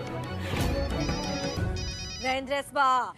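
A telephone rings with a bright electronic ringtone, its repeating tonal bursts rising clearly toward the end over background music and sound.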